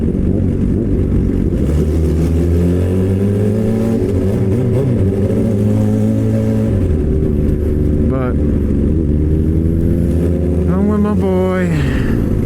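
A Suzuki GSX-R 600 sport motorcycle runs loud and close while riding, its engine droning steadily and then climbing in pitch through revs and gear shifts, with brief rising whines near the end.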